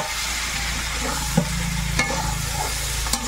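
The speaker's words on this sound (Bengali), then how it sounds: "মশলার সঙ্গে মিশিয়ে আরো একটু নেড়ে চেড়ে দেবো।" Eggs, potatoes and pointed gourd are stirred in spices in a frying pan. A steady sizzle runs throughout, with a few soft scrapes of the spoon.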